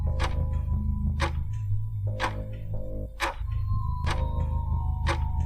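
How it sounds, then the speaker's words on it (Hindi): A clock ticks steadily in a silent house at night, each tick distinct and fairly close, with a low hum underneath and no talking. "घड़ी की आवाज़।"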